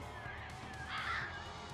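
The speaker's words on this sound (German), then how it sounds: "es wird relativ ruhig und ich höre Raben" Ravens caw in the video game Huntdown, a few drawn-out harsh calls at moderate distance over a steady low ambient drone, with no talking.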